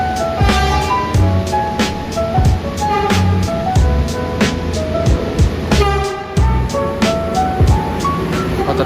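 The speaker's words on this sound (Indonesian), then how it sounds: "Oh, ternyata ada komuter dulu nih lewat. Kereta lokal KRD, kereta rel diesel." A local diesel commuter railcar passes close by on an Indonesian line, a loud continuous rumble with clanking wheel beats and rattling carriages, no talk.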